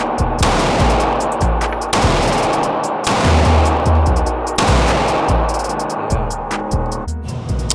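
Glock 19 MOS pistol shots ring out at an indoor shooting range, several sharp loud reports spaced a second or so apart with echoing decay.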